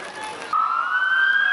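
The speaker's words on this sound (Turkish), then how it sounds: "Ambulans geliyor." A loud ambulance siren wails with a rising tone, close by and steady, with faint voices in the background, at a football match where a goalkeeper has collapsed on the pitch.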